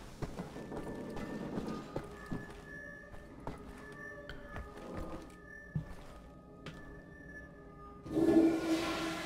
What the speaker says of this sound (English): flushing toilets